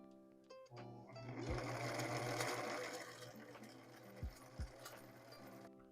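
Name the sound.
sewing machine stitching fabric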